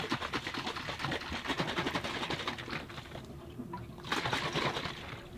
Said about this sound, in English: So we're just giving this a shake to mix the milk powder and the water together.